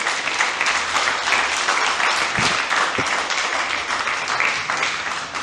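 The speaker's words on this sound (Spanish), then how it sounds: "Dale un aplauso a Cristo." Congregation applauding Christ during a church sermon, a steady, dense burst of clapping from many hands that fills the room and holds at an even level throughout.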